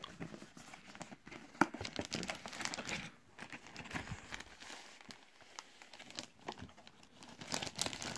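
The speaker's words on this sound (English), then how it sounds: "So now let's open this" A cardboard box holding a game cartridge case is opened up close, with scattered crinkling, tearing and rustling of packaging, irregular and fairly quiet, with no talking.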